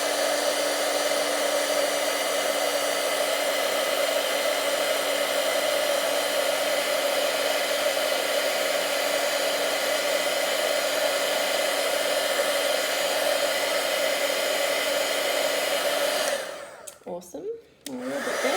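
A heat tool melts embossing powder on black cardstock, a loud, steady blowing roar close by that holds for about sixteen seconds and then cuts out in a few sputtering bursts.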